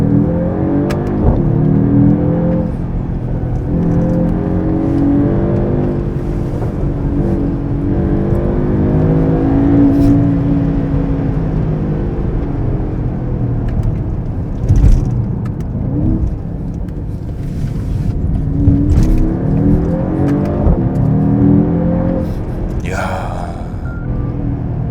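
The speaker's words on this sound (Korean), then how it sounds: "진짜 배기 사운드하고 이 가속하는 느낌의 조화가 어떤 느낌이냐면요" A Mercedes-AMG GT 43 4-Door accelerates in a low gear with its sport exhaust, rising and falling in steady revving swells with occasional crackles heard from the cabin.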